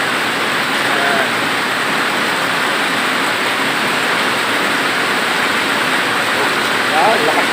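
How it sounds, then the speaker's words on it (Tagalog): Steady heavy rain pours in a dense, continuous wash of noise, loud and close, with no letup throughout. "Lakas ng ulan."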